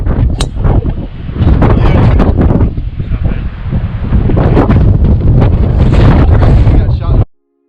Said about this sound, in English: let you guys get an experience and listen to the wind